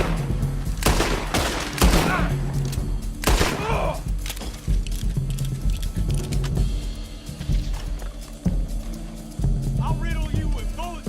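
Rapid volleys of gunfire from the online Western shooter Red Dead Online, sharp loud bursts clustered early, then repeated shots with mechanical clicks and thuds, under an intermittent voice.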